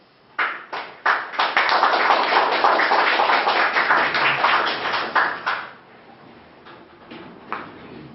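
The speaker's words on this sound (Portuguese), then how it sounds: "Com aplausos de vocês, Evanir Lacerda." An audience at a Luso-Brazilian poetry evening applauds, with dense, steady clapping that swells quickly, holds for several seconds, then thins out to a few scattered claps.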